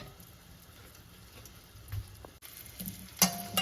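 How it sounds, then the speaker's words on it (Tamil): Onions sautéing in a pan for a Kongu-style kollu paruppu dish, a quiet sizzle with occasional soft stirring taps and a louder clatter near the end. "வெங்காயம் நல்லா வதக்கிட்டு இருக்கோம்"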